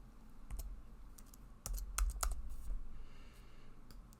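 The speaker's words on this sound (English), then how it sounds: "I'm going to type in their" Fingers tap out text on a computer keyboard, producing soft, irregular clicks close by with a brief quick cluster in the middle and no talking.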